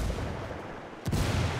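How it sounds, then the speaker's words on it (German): A grenade goes off in Ghost Recon Wildlands, one sharp blast near the end cutting through a low rumbling background. "Granate fliegt."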